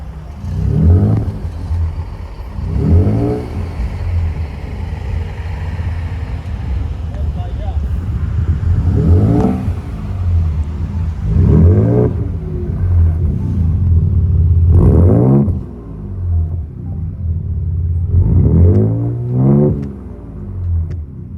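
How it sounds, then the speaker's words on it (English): A 2023 Ford Ranger Raptor pickup's exhaust rises and falls through a series of about eight loud revs, each climbing sharply and then settling back to a deep, rumbling idle. "let's listen to the exhaust note of the Ford Ranger Raptor"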